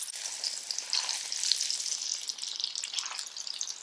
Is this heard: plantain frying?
yes